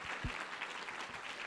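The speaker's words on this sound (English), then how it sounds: "can we have one more round of applause for both of our speakers?" Steady applause from an audience at a congressional candidate debate, a brief continuous wash of clapping heard from a distance without speech.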